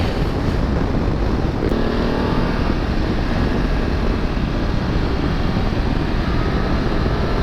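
A BMW F850GS motorcycle on Dunlop Trailmax Raid tyres rides along, with a loud, steady engine drone and heavy wind rumble throughout and no clear shifts.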